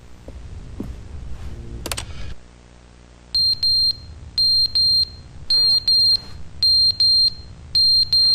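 Fire alarm in the game The Stanley Parable, a loud high-pitched electronic beep repeating in regular short pairs, preceded by a few clatters and a brief lull.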